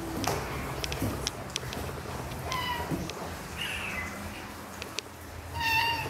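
A cat meows a few times, close and fairly clear, with short higher-pitched cries over steady background noise.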